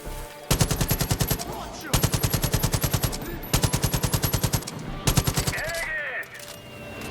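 Automatic rifle fire in the shooter game Far Cry 5 comes in several long, rapid bursts, each a fast hammering string of loud shots, with short pauses between and a final shorter burst near the end.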